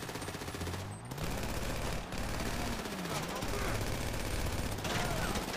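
Sustained automatic gunfire in GTA V during a prison break heist mission, dense rapid bursts layered over game noise with a few short pauses, loud and continuous.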